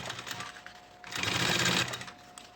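An industrial straight-stitch sewing machine sews bias binding onto a synthetic school pencil case, a close mechanical run that grows louder in the middle of the clip and then eases off, with no talking.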